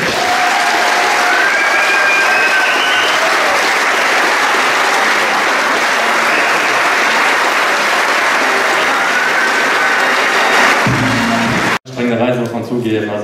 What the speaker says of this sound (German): begrüßen ganz recht herzlich mit einem donnernden Applaus den Viertplatzierten der Olympischen Spiele im Zehnkampf